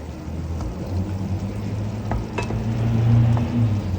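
Prawns fry and sizzle in a pan for prawn pulav while being stirred, a steady close sizzle with occasional scraping clinks, no talk.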